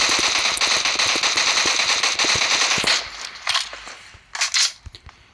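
Rapid M16 fire in BGMI/PUBG, a dense run of sharp bursts for about three seconds, then a few scattered louder shots as it tapers off.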